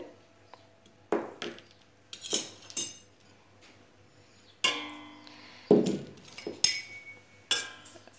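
A spoon clinks against a bowl while dry bread ingredients, including baker's yeast and granulated sugar, are mixed. The clinks and scrapes come in scattered bursts with quiet gaps between them, close and fairly soft, and nobody speaks.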